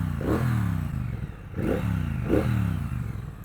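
A 2021 Triumph Bonneville Bobber 1200 with a 1200cc twin engine runs close up, its deep throbbing rumble rising and falling in three short rev swells with a slight mechanical clatter and no voices.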